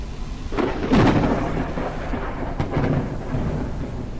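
Thunder rolls and rumbles through a thunderstorm in the survival game Forever Skies, with a heavy crack early on and steady rain hissing underneath.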